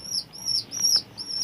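A pet pigeon gives a series of high, thin chirps, about four evenly spaced calls in a second and a half, close by and fairly clear, with no talking.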